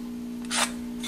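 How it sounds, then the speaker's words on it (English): A pen or marker is drawn across a wooden board corner to corner, giving one short, soft scratchy stroke and a faint second one, close and quiet over a steady low hum. "You draw a line straight from corner to corner."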